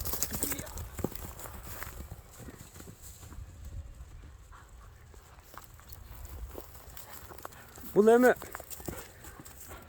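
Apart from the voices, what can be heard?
Kara-bair horse hooves walking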